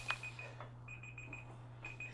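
A countdown timer alarm goes off at the close of a coffee talk, with faint, repeated electronic beeps in short bursts over a steady low hum in a quiet room.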